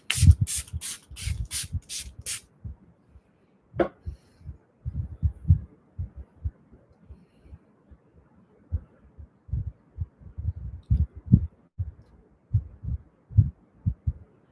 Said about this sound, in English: we would take the hydrating setting spray and we go ahead and spritz.